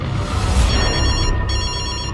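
A telephone rings steadily and loudly for a couple of seconds, its bell tone repeating under a dense movie-trailer soundscape, with no speech.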